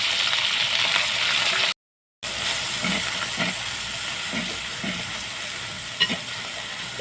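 Grated onion fries in hot oil with whole spices in a pot for chicken malai curry, giving a steady, close broadband sizzle with soft stirring scrapes; the sound drops out for an instant partway through.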